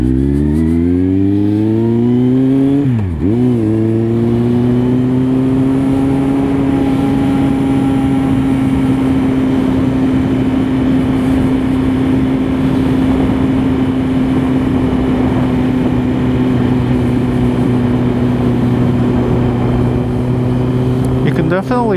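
A 2008 Kawasaki Z1000 fitted with a Danmoto Carbon GP exhaust runs close by with a steady, deep droning engine note, broken by a sharp rev blip early on and another brief rise at the very end.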